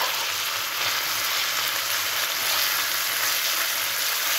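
Tomato frying in a pan for a South Indian drumstick gravy, a steady close sizzle with faint stirring, continuous and without talk.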